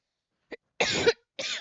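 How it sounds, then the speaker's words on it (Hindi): A short cough followed by two longer, harsh coughing bursts, close and fairly loud, with brief silences between them and no talking. "मुझे खांसी बहुत जो है ज़बरदस्त वाली हो रखी है"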